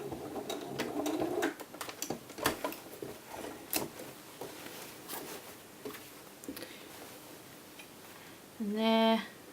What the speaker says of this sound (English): I'm just going to finish by stay stitching